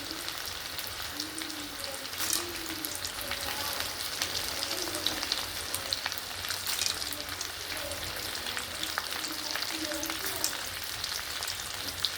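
Steady sizzling and crackling of dried raw mango pieces sautéing in hot oil for pickle, with soft stirring sounds throughout and no talking.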